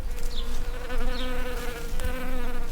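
Honey bees buzz loudly and continuously close by at an apiary surrounded by organic crops, a dense droning hum with individual bees passing near.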